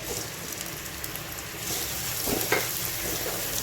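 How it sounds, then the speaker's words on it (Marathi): Coarsely pounded peanuts and chilli hit hot oil for a sabudana dish, making a steady, close sizzle that swells a little midway, with faint stirring scrapes and crackles and no voices. "आपण जो शेंगदाणे आणि मिरची कुटलेला आहे ती अशा प्रकारे कुटायचं आणि ती टाकायचे तेलामध्ये"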